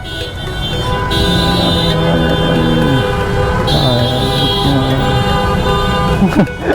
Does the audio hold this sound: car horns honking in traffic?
yes